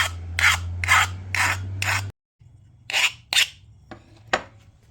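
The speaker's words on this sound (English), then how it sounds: "Just use a file." A hand file rasps a burr off a freshly cut metal edge in several quick, scratchy strokes over a low hum, then after a brief pause a few more strokes follow.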